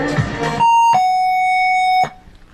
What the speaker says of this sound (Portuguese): Sistema de gongo aqui.